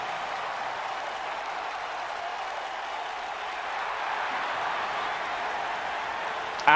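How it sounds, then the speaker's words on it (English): A crowd applauds at a wrestling event in the video game WWE 2K19, a steady wash of clapping and cheering that holds at an even level throughout. "And the crowd showing their appreciation."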